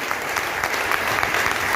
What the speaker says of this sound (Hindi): एक जोरदार ताली, जिंदा है हम लोग